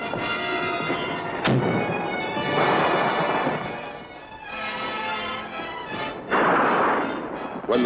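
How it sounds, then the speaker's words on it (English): Heavy artillery fire from big guns supporting troops in the Vietnam War booms in a sharp blast followed by long rolling rumbles, several waves overlapping at a distance without any voices. "big guns of the 4th were called in for support, and the heavy lead began to fly"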